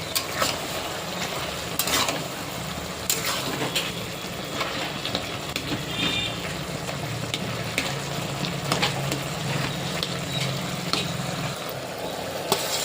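Bottle gourd curry masala stirred in a pan for a bottle gourd and shrimp dish, with a continuous close sizzle and repeated scraping and clanking of the spoon, no voices.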